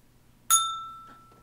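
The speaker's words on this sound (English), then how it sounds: "he's just gonna ring a bell" One bright ding from a small bell rings once, close and clear, then the tone rings on and fades slowly over about a second in a quiet room.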